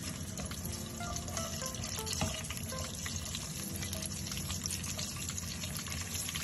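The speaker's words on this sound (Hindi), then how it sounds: "रोस्ट कर लेंगे या फ्राई कर लेंगे" Suji halwa fries in a pan with a continuous soft sizzle and crackle, broken by occasional stirring scrapes and small pops, fairly quiet and close, with no talking.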